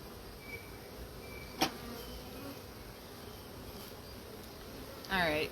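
A thick, continuous hum of many honey bees swarming over an open hive, with a brief knock partway through and a louder closer buzz swelling at the end.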